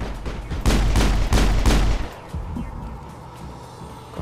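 Loud bursts of gunfire from the video game Mass Effect, a few heavy rapid volleys in the first two seconds, then a fainter rumbling tail.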